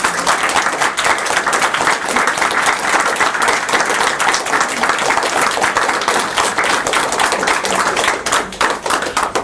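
An audience applauds steadily at a talk, a dense, loud, continuous patter of many hands clapping throughout with no voices standing out.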